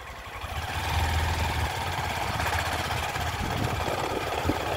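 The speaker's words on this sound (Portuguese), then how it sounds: "Aí nós vamos ver três numa moto." A motorcycle carrying three riders rolls along a quiet dead-end street in Carnaúba dos Dantas, its engine giving a steady, close, continuous drone with no talking.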